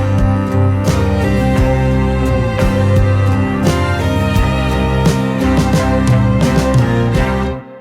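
A piece of music plays loud and continuous, a full arrangement with a string quartet, sustained harmonic layers and recurring percussive hits, running steadily before stopping abruptly near the end.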